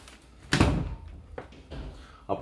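A room door is pushed shut with a solid thump, followed by a few softer knocks and clicks at close range in a quiet indoor space.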